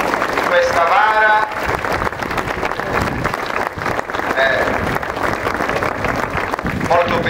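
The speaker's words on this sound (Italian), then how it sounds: "un grande applauso ai nostri portatori di San Rocco" Crowd applause for the bearers carrying the heavy statue of San Rocco during the return of a festival procession in San Costantino Calabro, sustained clapping throughout with voices mixed in.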